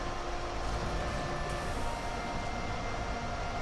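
Train sound in the video game Star Trek Resurgence, a constant loud rumbling drone with steady tonal hum and no clear breaks, alone without talk.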